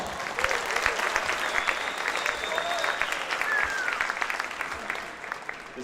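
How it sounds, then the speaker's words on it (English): An audience at a high school spring signing ceremony claps for student athletes, steady moderate applause from a crowd in a hall that fades toward the end, with a few scattered whistles. "So give these kids a round of applause"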